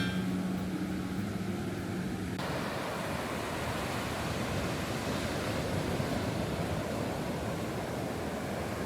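Steady, soft wash of gentle surf rolling in continuously on a shallow white-sand beach in Kyoto, Japan, with gentle waves and a faint breeze blending into an even hiss.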